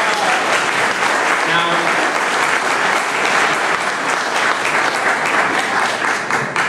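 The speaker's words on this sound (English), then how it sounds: "Let's have another round of applause" A sustained round of loud applause from a celebration crowd marking a ten-year political anniversary, thick steady clapping throughout, with a brief spoken word over it.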